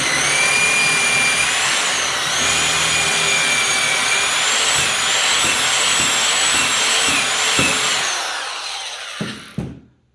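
A power drill bores pocket holes through wood held in a cheap knockoff Kreg jig, a loud continuous high whine with shifting pitch that runs steadily, then winds down and stops, followed by a couple of short knocks.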